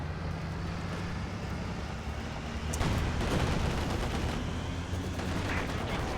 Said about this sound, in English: It's the tractor with rockets on it. It's 3 tons of quantified destruction and proliferous artillery fire.